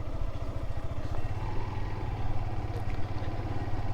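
A motorcycle engine chugs with a low, even rumble on an empty, remote road, with a faint clatter over it and no voices.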